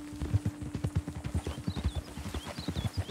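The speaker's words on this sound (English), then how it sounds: "a mi caballo, tío. Está asustada." A frightened horse's hooves clip-clop in a steady, brisk rhythm in Red Dead Redemption 2, close and fairly quiet, with faint birdsong high in the background.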